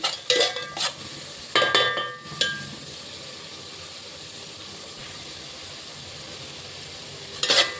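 Bagara rice sizzles softly in a pan over a low flame, with short bursts of a spoon stirring and scraping near the start and again at the end, and a quiet, even hiss in between.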